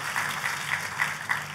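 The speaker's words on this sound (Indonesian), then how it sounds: "Tepuk tangannya pula yang paling meriah buat Tuhan kita." Church congregation claps in a steady rhythmic beat, roughly three claps per second, moderately loud and even throughout.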